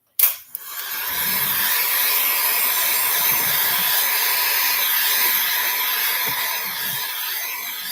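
A hair dryer blowing to dry artwork during a workshop project, a steady broadband whoosh that starts abruptly after a brief click and runs loud and continuous to the end.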